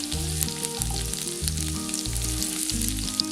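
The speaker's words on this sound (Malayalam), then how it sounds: "ഈ ഹൈ ഫ്ലെയിമിലിട്ട് തന്നെയാണ് ഇതെല്ലാം ഇനി വഴറ്റിയെടുക്കുന്നത്" Ginger, garlic and green chilli sautéing over a high flame for Indo-Chinese chilli beef, a loud close sizzle with rhythmic tossing and scraping strokes repeating about every half second.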